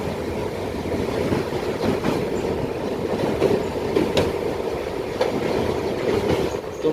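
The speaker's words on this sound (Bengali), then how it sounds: "মধ্যেখানে এক চিলতে জমির উপর দিয়ে আমাদের ট্রেন ছুটে চলেছে তার নিজস্ব গন্তব্যস্থলে।" A train running on the Dalgaon to Siliguri line through forest and river country produces a steady rolling rumble from inside the carriage, with rhythmic clacks over the rail joints.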